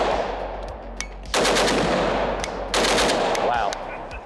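A rare 5.56 AK rifle fitted with a straight muzzle brake fires two loud, sharp bursts of rapid shots separated by a short pause, with echoing reports ringing out afterward.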